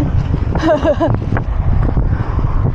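Strong wind buffeting the microphone in low rumbling gusts, with a brief voice partway through.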